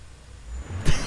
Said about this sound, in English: So we're drag racing?